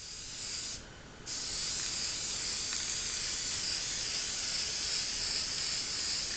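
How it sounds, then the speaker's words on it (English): Aerosol primer sprays from a can onto tabletop miniatures in a steady, close hiss, with one short pause near the start before spraying resumes continuously. "we're pulling it away and spraying back and forth"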